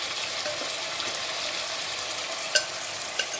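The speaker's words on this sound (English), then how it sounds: "I will let it fry" Spices, chilies, black pepper, onions and ginger garlic fry in a pan for chicken chutney, giving a steady close sizzle with a couple of faint clinks near the end.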